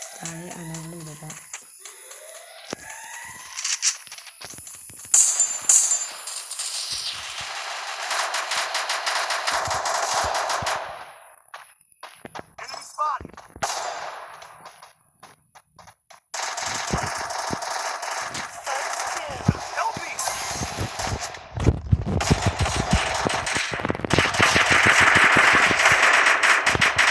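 Gunfire in the Free Fire video game: rapid bursts of automatic shots and other game effects crackle in uneven stretches, loud and close, with a few brief pauses and a voice talking at times.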